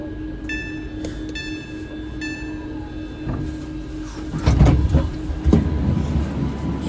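A London Overground train bound for Watford Junction, a steady rumble with a few sharp tonal beeps early on, then heavier clattering and thumps as it gets moving.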